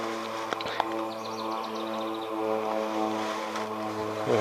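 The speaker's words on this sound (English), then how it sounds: "what you're hearing is a spray airplane going by," A crop-spraying propeller airplane drones steadily overhead, its engine hum holding a constant tone, with a few faint clicks and rustles nearby.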